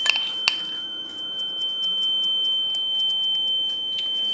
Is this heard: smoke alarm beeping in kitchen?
yes